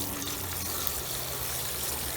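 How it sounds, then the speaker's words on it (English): Water pours steadily from a hose into a GreenStalk vertical planter, making a continuous close rushing and trickling sound with no talking. "We're going to keep adding water until it goes up to the top line."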